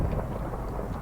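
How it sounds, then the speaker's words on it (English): Deep thunder rumbles from a lightning strike in the Minecraft video game, a steady low roll lasting about a second with no pauses, heard alone without talk. "Was that lightning in my cave?"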